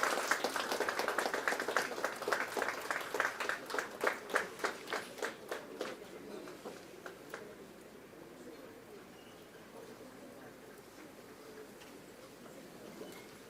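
A hall audience at a science festival curtain raiser applauds to welcome the chief guest. The clapping starts loud and dense, then thins into scattered individual claps that fade out by about seven seconds, leaving quiet room tone.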